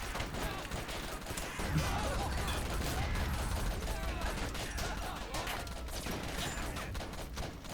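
Dense gunfire in a war video game, with soldiers advancing under fire from above: continuous overlapping rifle and machine-gun bursts fill the whole stretch at a steady, loud level.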